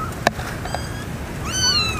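Cats meow in a cemetery at night, a sharp click then a couple of short meows, the last one longer and louder, over a low steady hum.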